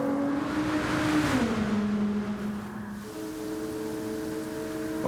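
A Ferrari race car in a rain-soaked racing game screams with a steady, droning engine note as its rear tyres spin, pitch sliding down and then stepping back up, loud and continuous throughout.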